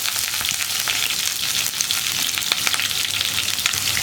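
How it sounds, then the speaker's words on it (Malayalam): Crushed ginger fries alongside curry leaves in coconut oil for an egg curry, producing a dense, continuous close-up sizzle with faint stirring scrapes and no voices. "കറിവേപ്പിലയുടെ കൂടെ തന്നെ നമുക്കിനി ചതച്ച് വെച്ചിരിക്കുന്ന ഇഞ്ചി ചേർക്കാം."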